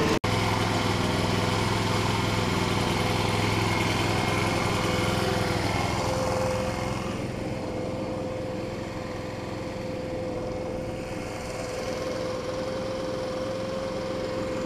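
A Troy-Bilt TB4BP four-cycle gas leaf blower runs steadily at close range, its engine drone shifting to a slightly lower, quieter tone partway through with a sustained whine.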